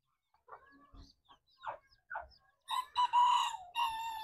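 Chickens and young chicks in a backyard coop, clucking softly and intermittently before a rooster crows loudly and drawn out nearby.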